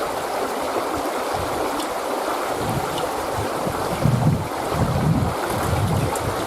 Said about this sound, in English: Just wash it off just a little at a time.